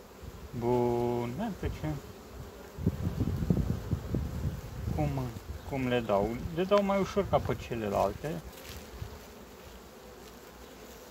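Honeybees at a hive being fed protein patties buzz in a low steady drone beneath someone speaking Romanian close by, his voice dominating much of the stretch.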